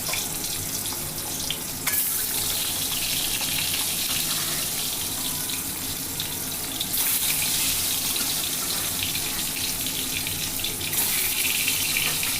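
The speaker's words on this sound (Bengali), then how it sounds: "এবার আমি ডিমটাও ফ্রাই করে নিচ্ছি আলুর সাথে সাথে" Potatoes and eggs fry together in a pan with a loud, dense, continuous sizzle that holds steady for several seconds, with no speech.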